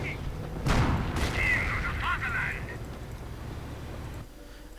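Gunfire rakes a Volkswagen in Company of Heroes, a dense burst of overlapping shots and booms in a busy battle mix, loud at first then easing off over a few seconds.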